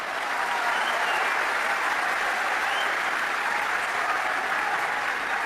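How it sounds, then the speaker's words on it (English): A large audience at a gathering in Oman claps loudly and steadily, a dense, even wash of applause that carries on without a break and has no talk over it. "So many clap"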